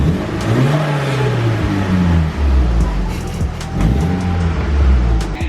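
Honda Civic engine with a new back box exhaust revving in a couple of rising and falling pulls, loud and close, with a steady idle drone between the revs.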